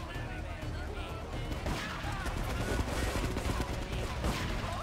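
Gunfire at dummies in GTA 3: scattered shotgun-like blasts and crackling shots, fairly faint, spread across a busy, noisy background.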